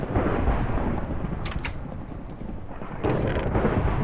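Rain hisses steadily in a Minecraft world, with low thunder rumbling throughout and swelling again near the end, heard with no talking over it.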